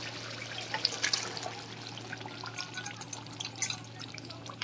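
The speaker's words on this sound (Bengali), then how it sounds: "আমি এবারে তরকার ডালটা সমস্ত ঢেলে দেব" Boiled mung dal pours into a spice tadka in a pan with a steady wet trickling and dripping sound and a few brighter splashes, with no one speaking.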